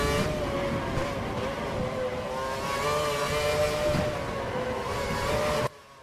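Formula 1 car engine from the F1 2012 racing game drones loudly and steadily for several seconds with shifting high engine tones, then cuts off abruptly near the end.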